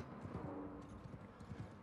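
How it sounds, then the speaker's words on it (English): Horse hooves clip-clop in Mount and Blade 2 Bannerlord during a mounted battle round, a quick, steady rhythm of soft thuds, faint and low under general game noise. "Oh my goodness, we're on horses."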